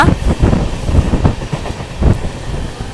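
A passenger train on the Mysuru to Shirdi route running at high speed, loud rumbling wheels and rhythmic clickety-clack with wind roar, heard close from aboard, no talking.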